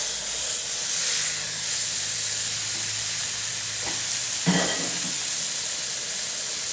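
Ground turkey for spaghetti and meatballs frying in a hot pan with a steady, close sizzle and hiss, broken by a soft utensil scrape and one brief clatter.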